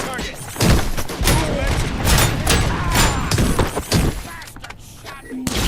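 Loud close bursts of gunfire crack and thud repeatedly in a RoboCop Rogue City firefight, rapid shots with impacts and shattering debris, mixed with shouted game voices.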